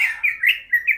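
A green leafbird gives a short run of bright, clear chirps, four quick notes close to the microphone in an otherwise quiet space.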